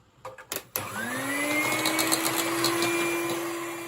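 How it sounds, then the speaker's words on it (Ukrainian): An electric mixer starts up after a few clattering knocks, then whirs steadily at high speed whipping fruit cream over a water bath, its motor pitch rising slightly as it runs. "Продовжую збивати."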